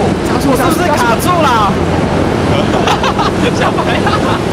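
Airplane engine in a Minecraft flight simulator game: a steady, rushing drone runs throughout, loud and close, with a person talking over it.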